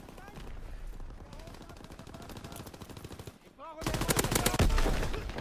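Rapid automatic gunfire from Call of Duty WW2 online team deathmatch multiplayer, with rattling bursts of shots throughout that grow denser and louder in a heavy final barrage near the end.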